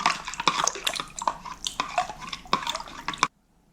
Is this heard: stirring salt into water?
yes